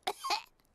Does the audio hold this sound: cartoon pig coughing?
yes